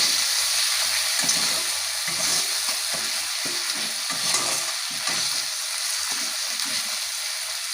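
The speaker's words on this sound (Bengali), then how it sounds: "সমস্ত মশলাগুলো দিয়ে আবারও ভালোভাবে কষিয়ে নেব" Spices (cumin powder, chilli powder and turmeric) stir-fried in oil over medium-low heat for a lote fish and potato curry: a steady close sizzle with repeated scraping strokes of a spatula through the pan, no talking.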